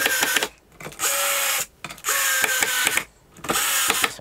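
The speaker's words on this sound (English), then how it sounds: "putting the neck plate in just to stop it scratching the guitar, and then tightening the screws" A power drill drives screws through a neck plate into a guitar being stripped of paint: three close, loud whirring bursts about a second long, separated by short silences, with no talk.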